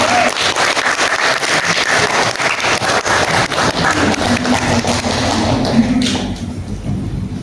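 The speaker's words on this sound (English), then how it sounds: "Please give applause to our" An audience applauds a visiting professor at a Peace Talk series event at UIN Sunan Ampel, Surabaya: dense, steady clapping from a crowd indoors, fading slightly near the end.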